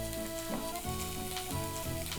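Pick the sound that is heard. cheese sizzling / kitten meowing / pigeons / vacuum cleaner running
cheese sizzling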